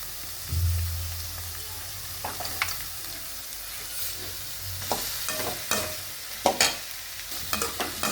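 Chopped capsicum sautés in a hot pan for an egg fry, a continuous sizzle broken by repeated spatula scrapes and stirring knocks, close and fairly loud, with a low thump near the start.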